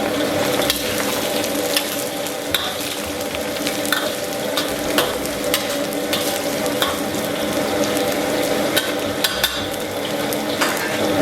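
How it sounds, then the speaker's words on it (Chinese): Ginger slices fry in oil over low heat, giving a steady crackling sizzle that stays close and even throughout, with occasional sharp ticks and light scrapes from stirring. "小火咱们把姜片炒香"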